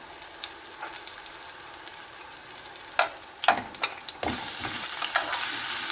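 Chicken sizzling and frying in a pan for ginisang togue, a steady crackling hiss broken by a few sharp scraping stirs near the end.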